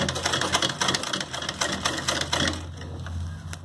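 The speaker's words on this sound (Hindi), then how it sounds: "यहाँ पर हम रख के एक किनारे की बखिया लगा लेंगे" A sewing machine stitches a hem along the edge of a small summer dress for a Laddu Gopal idol, running in a quick, steady rhythmic chatter for about two and a half seconds before stopping.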